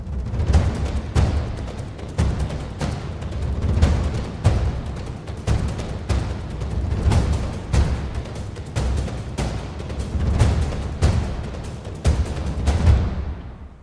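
Cinematic percussion track built from layered drums across low, mid and high registers, with deep booming hits and a steady driving pattern of sharp strikes playing loud and alone for about fourteen seconds.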